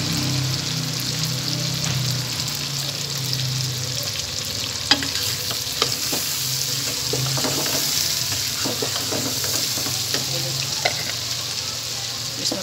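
Chillies sizzle in a hot pan with chicken, garlic and black cardamom, a continuous close frying hiss with occasional scraping stirs and small pops, and no one speaking over it.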